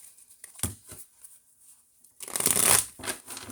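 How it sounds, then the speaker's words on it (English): Card shuffling in two bursts: a short riffle early on, then a louder, sustained riffle and bridge that whirs and patters before settling. "I shuffled those really good, actually."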